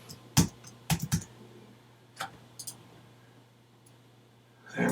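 A computer keyboard being typed on while renaming a music track, heard as a few sharp, close keystroke clicks in small clusters with quiet gaps between, ending in a louder rustle.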